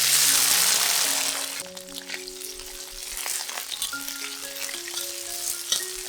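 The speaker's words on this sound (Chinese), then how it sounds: "现在倒入适量的油，待油热后放入迷迭香、 小番茄炒香" Rosemary and cherry tomatoes stir-fry in hot oil, a loud crackling sizzle at first that settles into a softer bubbling fry, with faint utensil clicks here and there.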